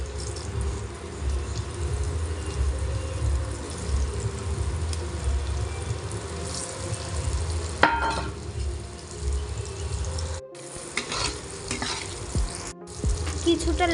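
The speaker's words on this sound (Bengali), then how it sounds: "আলু ভাজার তেলেই সয়াবিনগুলো দিয়ে দেব।" Soybean chunks frying in leftover potato-frying oil in a home kitchen pan, a steady close sizzle with stirring scrapes throughout and a few brief louder clatters, no talking.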